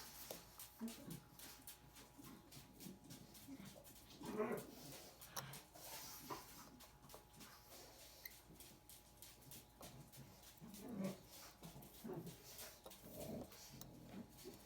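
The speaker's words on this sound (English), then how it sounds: "I have dogs knocking on my door trying to get into my office here" Dogs whimpering and whining outside an office door while trying to get in, soft intermittent cries and yips under a steady room hum, with someone speaking now and then.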